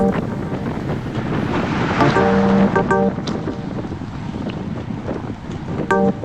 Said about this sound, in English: You hear that wind?